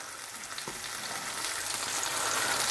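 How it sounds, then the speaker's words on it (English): Beef sizzles loudly as it sears in a hot frying pan, a bright crackling hiss that steadily grows a little louder, with an occasional stir. "All we're doing now is we're just trying to seal the meat"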